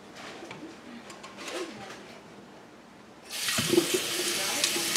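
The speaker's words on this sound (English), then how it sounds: "drop it in the water and start running cold water" Cold tap water runs in a sink over freshly boiled chicken eggs, starting suddenly partway through as a loud steady rush after quieter kitchen handling noises.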